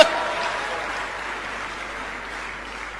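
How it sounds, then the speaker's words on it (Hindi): Brief audience applause at a live comedy show, a soft burst of clapping that fades steadily over a few seconds. "अब आपकी तालियां उठेंगी"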